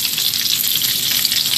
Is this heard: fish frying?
yes